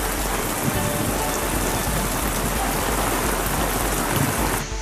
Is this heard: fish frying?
no